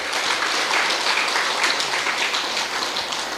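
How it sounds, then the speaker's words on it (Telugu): An audience claps steadily at a spiritual gathering, a dense, continuous wash of applause with no voices. "సో మహావతార్ ఫౌండేషన్ వారికి కూడా చప్పట్లు కొడదాం"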